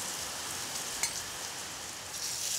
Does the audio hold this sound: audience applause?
no